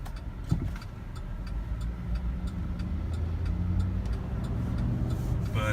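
A 2008 GMC Yukon Denali with a big engine starts up and settles into a steady low rumble that builds slightly, heard close with street background and no talking.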